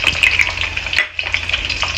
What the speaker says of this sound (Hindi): पहले मैं बादाम थोड़ा फ्राई करके निकाल देती हूँ